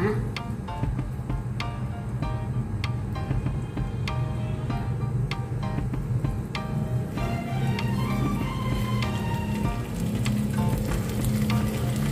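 Honey-marinated chicken roasting in a Teflon pan gives off a steady, close sizzle with scattered crackles and pops running the whole way through, alone with no one talking.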